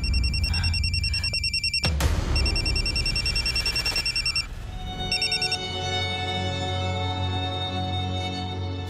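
A telephone rings indoors during a Bengali TV drama scene, its bright electronic trills repeating in bursts over a low background hum.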